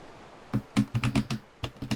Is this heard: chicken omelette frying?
no